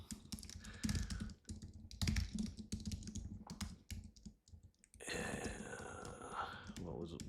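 SCSS code being typed on a computer keyboard in bursts of rapid clattering keystrokes with brief pauses, close and clear, while a person talks over the typing.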